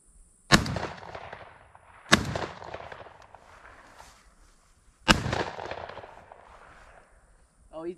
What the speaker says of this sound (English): Took me 3 shots.